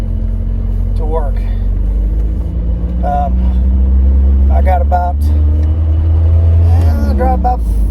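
A 36-year-old Pontiac Fiero drives along steadily, its engine hum and road rumble loud and continuous from inside the cabin, with brief squeaks and rattles over the drone.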